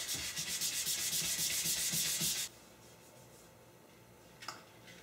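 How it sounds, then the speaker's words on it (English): A table base coated in polycrylic finish is sanded by hand in quick, even back-and-forth rasping strokes, close and steady, which stop midway and leave quiet room tone with a single soft knock. "I'm just sanding it and prepping it for the second coat"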